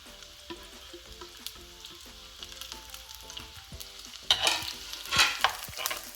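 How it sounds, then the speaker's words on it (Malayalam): Chopped shallots frying in a pan for a Malayalam pulissery, heard as a steady low sizzle with spoon scrapes and clicks; a louder burst of sizzling and stirring comes in near the end, with no talking. "ചുമന്നുള്ളി ഇതാക്കി കൊണ്ടിടുക."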